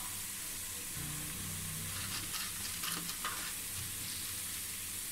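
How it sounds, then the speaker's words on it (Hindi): Whole garam masala sizzles in hot oil with golden-brown fried onions in a pot for chicken pulao, giving a continuous crackling fry with a few louder bursts as the spices hit the oil. "इसके अंदर मैं डाल दूँगी 1 टेबल स्पून साबुत गर्म मसाला"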